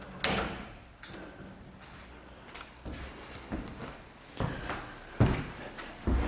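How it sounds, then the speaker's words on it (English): An old sliding door in an abandoned house, heard as a series of wooden thumps, scrapes and knocks spaced irregularly, close by with no talking. "Another sliding door."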